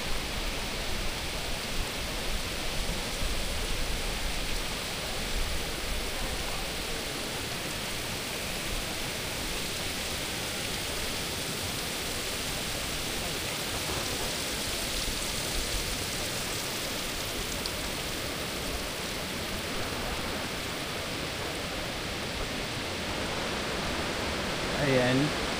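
Sinulom Falls near Cagayan de Oro in the Philippines pours into a pool below, a dense, unbroken hiss-like roar that stays steady and even throughout.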